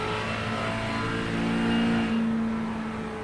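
Race car engines in a multi-class IMSA race at Imola in the iRacing sim hold a steady high-pitched drone, one engine rising slightly in pitch and then easing off as it approaches a hard left-hand turn.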